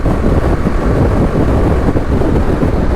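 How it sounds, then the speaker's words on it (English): Heavy, continuous wind buffeting roars across the microphone while riding a 2020 BMW G310GS motorcycle, a loud, steady low rumble with no other sound above it. "Oh, that wind."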